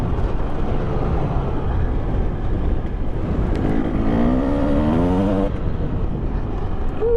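A 2020 Husqvarna TE300i dirt bike ridden in a trials-style, controlled-wheelie manner: a continuous engine drone with wind rush, and the revs climb and fall midway, close and steady throughout.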